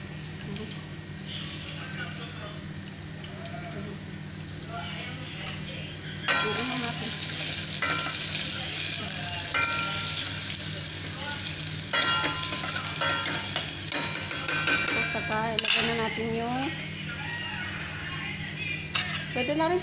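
Onion and squid sizzle and fry in a pan for Filipino adobong pusit, a steady crackle that grows louder partway through, with stirring clatter and brief bursts of water in the background.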